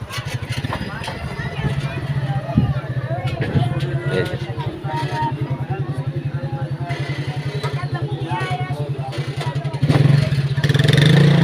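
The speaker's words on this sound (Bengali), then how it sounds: "মোটরসাইকেল দিয়ে ঘুরে আসলাম" A motorcycle rides along a village road past tobacco fields in Lalmonirhat, its engine a continuous close chugging drone with rattles, and it swells louder near the end while people talk over it.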